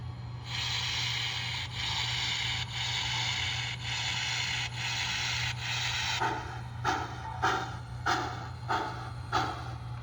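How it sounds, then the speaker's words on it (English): An MTH Protosound 3.0 model train engine starts up, a steady low hum under broadband hissing, then rhythmic chuffing bursts set in, repeating about every half second. "So when you start the engine up like this"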